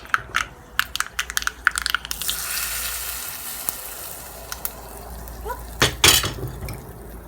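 Curry leaves being ground into a capsicum chutney, a run of sharp crunching and crushing bursts close up, followed by a steadier grinding wash and a few louder closing crunches.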